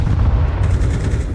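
A grenade going off in a video game, a heavy low rumbling boom that rolls on loudly through the whole short moment without any voices.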